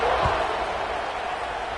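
A stadium crowd roars steadily through a college football video game broadcast as the kickoff unit takes the field, a dense, loud wash of cheering with a brief low thump near the start.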